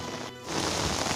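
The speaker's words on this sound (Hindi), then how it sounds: "यहाँ पे झमाझम जबरदस्त बारिश हो रही है" Heavy rain pours down steadily as a dense, continuous hiss across the whole stretch, with a brief dip in intensity just before it returns at full strength.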